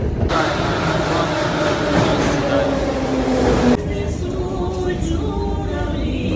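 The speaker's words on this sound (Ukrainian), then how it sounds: "Ну, крайній раз на, на, на цю поїздку їду в метро." Steady rumbling of a Kyiv metro train in motion, a broad roar that abruptly drops partway through, with faint voices underneath.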